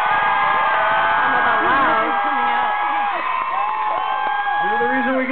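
A large live concert crowd at a show in Del Mar cheers and whoops loudly throughout, muffled and continuous under someone talking from the stage.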